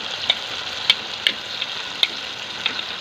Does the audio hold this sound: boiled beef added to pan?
yes